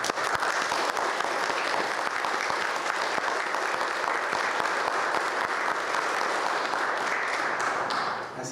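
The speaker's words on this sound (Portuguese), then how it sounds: "Essa salva de palmas é para o Jesus" A church congregation applauds, a dense, steady wash of clapping from many hands that holds for several seconds before easing off at the end.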